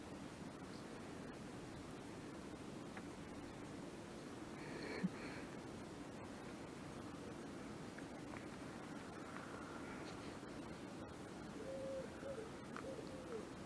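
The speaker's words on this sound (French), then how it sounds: "c'est chouette le soir parce que on peut entendre les hiboux" Owls hoot softly in the distance on an evening walk across a football field. A few faint calls rise over a steady background hiss of wind or ambient noise.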